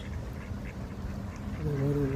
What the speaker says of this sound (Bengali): দেখেন কতগুলো হাঁস